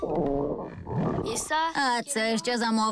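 A hungry cartoon character's stomach growls in a series of loud, pitched, roaring gurgles with brief gaps, following a short line of speech.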